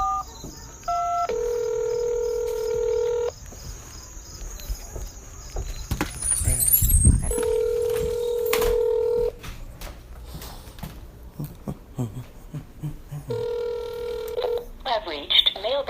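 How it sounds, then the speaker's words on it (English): Phone keypad tones beep in short bursts, followed by a steady dial-like tone and ringing to a house phone, with a voice speaking briefly between them. "I'm going to leave him a message on his house phone"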